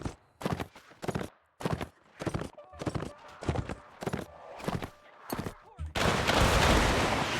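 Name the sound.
musket volley gunfire in Mount & Blade Warband video game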